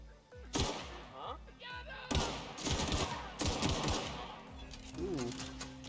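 Rapid bursts of gunfire in The Outer Worlds, loud and close, with sharp repeated shots in clusters across the clip, layered over game effects and a steady background hum.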